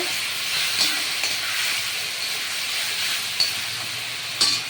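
A garlic, ginger and green chili paste fries in hot oil for a paneer kofta curry, giving a steady hissing sizzle with a few sharp clicks of stirring.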